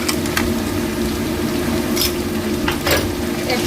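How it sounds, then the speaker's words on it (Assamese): Spice paste of cumin powder, ginger and garlic frying in a pan with onions, a steady sizzle with occasional scraping and clinks of a utensil against the pan. "এতিয়া অলপ দেৰি মই ইয়াতে ভাজি থাকিম"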